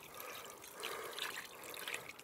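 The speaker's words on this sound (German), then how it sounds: "gieße ich meine Tomaten" Water trickling and splashing faintly as tomato plants are watered in a garden, a soft, steady pour without speech.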